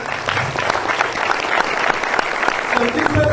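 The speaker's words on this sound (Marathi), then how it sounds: "सरांसाठी एकदा जोरदार टाळ्या।" An audience in a training seminar hall claps loudly and continuously for a speaker, a dense close wash of applause lasting the whole stretch, with some voices mixed in.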